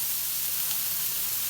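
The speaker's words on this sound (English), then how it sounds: "And then I'm going to add the ground beef to this." Ground beef hitting a pan of sautéing onions produces a steady, bright hiss and sizzle that holds evenly and close for the whole brief moment, with no talking.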